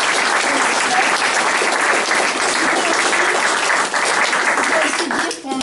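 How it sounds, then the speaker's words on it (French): An audience at a book fair presentation in Emmerin breaks into sustained, dense applause, loud and steady for several seconds and then easing slightly at the end. "Donc on va vous applaudir."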